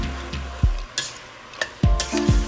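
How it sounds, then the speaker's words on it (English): Cabbage stew ingredients, including beef, are stirred together in a cooking pot, giving a few scraping, clattering strokes against the pot over a light sizzle, close and fairly loud, with no talking. "Give it a big stir."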